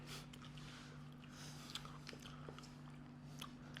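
Several people chewing and biting into hard candies up close, with soft crunchy bites and mouth sounds scattered over a steady low hum, no talk during it.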